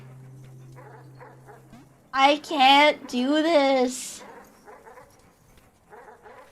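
Dogs barking in the video game Animal Well, short bursts of barks that recur faintly at the start and end, around a loud, strained human voice speaking in the middle.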